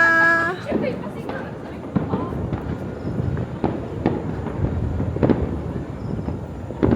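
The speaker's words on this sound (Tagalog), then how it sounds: "Ay, ang ganda ng mga fireworks." New Year fireworks burst repeatedly with scattered pops and crackles at some distance, while people nearby talk and chatter throughout.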